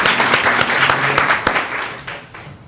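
A short burst of scattered applause rings out at a regular board meeting for a student's parents, a modest group clapping fairly close, faint murmuring underneath as it tapers off.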